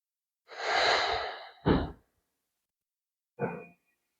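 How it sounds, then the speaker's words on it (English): Slow, deep breaths taken during a yin yoga class, a long airy exhale followed by a short sharp breath, then a pause and one more brief breath, close and quiet with no talking. "Breathing all the way down into your lower belly."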